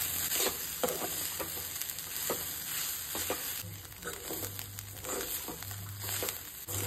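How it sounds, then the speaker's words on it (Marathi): Oyster xacuti masala roasts on a low flame with quiet, crackly frying and repeated stirring scrapes, soft and close. "सामकी लो दवरून न्ही आमकां आतां बरें भाजून घेवपाक जाय"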